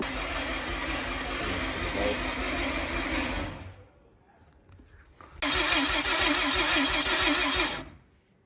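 A Honda Civic engine cranks on a jump box in two long bursts of rapid, whirring starter churn separated by a short quiet gap, loud and close.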